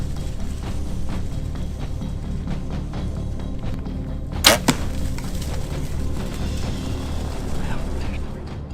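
An arrow leaves a hunting bow in a rural field near suburbia: one sharp, brief snap-and-whoosh rising above a steady low ambient rumble, with no voices around it.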